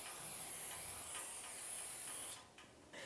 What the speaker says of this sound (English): we can clean it with our brake clean, get the surface oils off of there from the storage